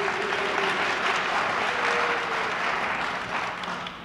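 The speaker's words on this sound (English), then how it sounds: "No applause, please." Sustained audience applause at the second 1984 Reagan–Mondale presidential debate, a dense, steady clapping crowd at full level throughout before tapering slightly at the end.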